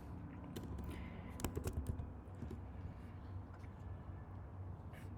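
Someone types a command on a computer keyboard in a Linux terminal, soft irregular key clicks with a brief quick flurry, faint under a steady background hum.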